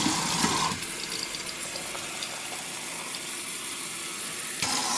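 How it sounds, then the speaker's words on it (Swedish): Water running from a tap into a container, a steady hissing gush that starts loud, drops slightly in level, then continues evenly before a brief change at the end. "vad det kom mycket vatten"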